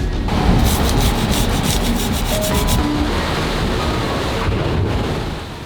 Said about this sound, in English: I am cleaning grabber pieces.